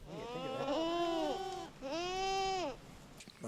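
Goats bleating at a vegetation-clearing site, two long wavering bleats close by over light background noise, with no talking.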